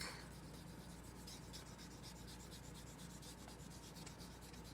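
Marker being erased from a Railroad Ink game sheet makes a faint, continuous rubbing and scrubbing with quick back-and-forth strokes, close by and heard alone.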